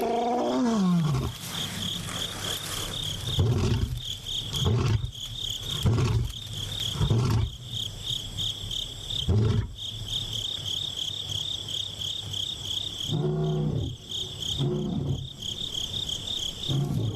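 Lions roar from the wild in a series of deep, rhythmic pulses, several of them in a row. A steady, high insect chirr runs underneath the whole time.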